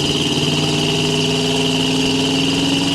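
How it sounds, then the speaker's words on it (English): A 1986 Chevrolet C10 pickup with a small-block engine pulls steadily at half throttle, its drone close, loud and continuous with a low rumble and steady hum throughout, no talking. "Nice acceleration, about half throttle there."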